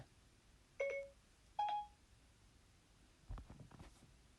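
A mobile phone sounds a short series of electronic dialing beeps, two clear tones followed by a softer burst of clicks, close and fairly faint in a quiet room.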